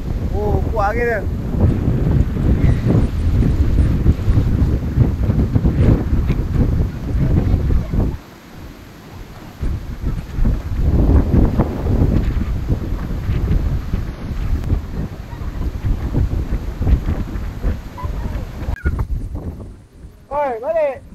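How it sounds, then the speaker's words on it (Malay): Strong wind buffets the microphone at an outdoor camping site, a loud continuous low rumble that fills almost the whole stretch and dips briefly midway. Voices are faintly audible through it. "Oh, kuat angin dia."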